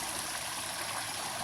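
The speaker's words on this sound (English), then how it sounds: "Just came up this little mini waterfall." A small waterfall and stream flow beside a hiking trail near Tank Spring, making a steady, fairly faint rushing and trickling wash with no voices over it.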